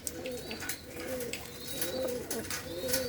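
Soft, repeated cooing from pigeons in a Punjabi breeder's loft, several low rolling calls close together over a steady ambient hum, with no voices.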